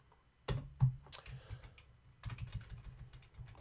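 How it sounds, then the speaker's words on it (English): Typing on a computer keyboard, close and quick, with irregular clusters of key clicks and a brief pause midway. "Back to that typing thing again."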